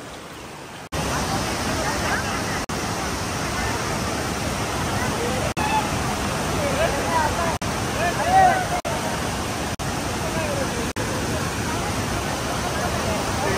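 Broad, steady roar of Dhangar Waterfall near Badlapur in heavy flow, a continuous close rushing wash of falling water with no break.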